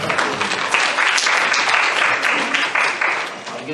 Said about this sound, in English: Clap your hands as you stand.